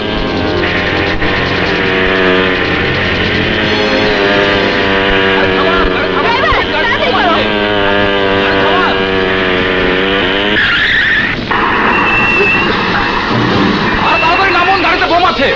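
Vehicle tearing away at speed in a Bangladeshi action-film chase, a loud roaring engine with rising pitch sweeps and a skidding screech, set against a continuous dramatic music score throughout.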